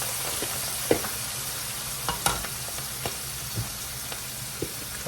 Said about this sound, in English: We're gonna fry the cabbage right now.